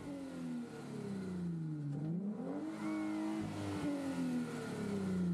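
A four-wheel drive truck with front and rear axles locked, stuck in sunken mud, revs its engine loudly and continuously, pitch rising and falling through several sustained surges with no talking.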